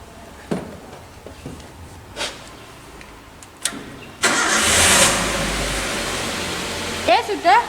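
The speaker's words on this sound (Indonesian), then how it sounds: "kemudian nanti kita nyalakan mesin mobil" A Toyota Avanza engine cranks and catches about halfway through, then settles into a loud, steady idle after some scattered clicks and handling noises, with a brief voice near the end.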